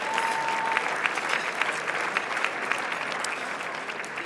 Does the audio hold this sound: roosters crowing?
no